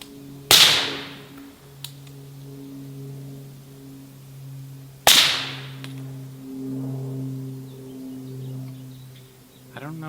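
Two sharp suppressed rifle shots about four and a half seconds apart, each a loud, close crack with a quick decaying tail, over a steady low hum with faint voices in the background.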